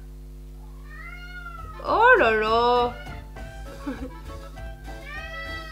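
A pet cat meows loudly and at length indoors, with a long drawn-out wavering call and then a few shorter meows, while someone speaks softly between the calls.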